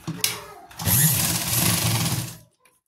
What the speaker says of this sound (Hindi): अब इसको इस तरह से हाफ मार्जिन पे सिलाई लगाएंगे